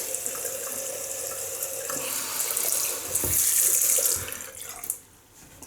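Tap water running steadily into a sink while a razor is rinsed after a shave, a close, continuous splashing hiss that swells midway and then cuts off near the end.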